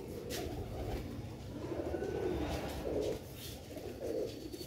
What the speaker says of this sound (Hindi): सियालकोटी बटेरे कबूतर।